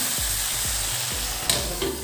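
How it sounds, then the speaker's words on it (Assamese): Ground spice paste and fried potatoes fry together in a pan, a steady close sizzle broken by a few spatula scrapes and stirs. "পেষ্ট কৰি ৰখা মছলাখিনি দিলোঁ। এইবাৰ মই ভাজি থোৱা আলুখিনি ইয়াত দি দিলোঁ।"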